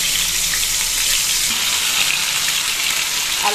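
Potatoes dropped into hot oil seasoned with nigella seeds fry with a steady, loud, continuous sizzle and crackle, close up and without any talking.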